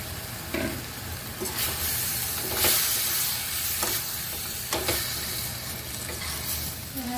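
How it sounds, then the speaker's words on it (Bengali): Fried okra sizzles in masala in a pan, a constant hiss broken by the scrape and stir of a spoon, close and fairly loud with no talk. "এবারে আমি এর মধ্যে ভেজে রাখা ভিন্ডিগুলো ঢেলে দেবো।"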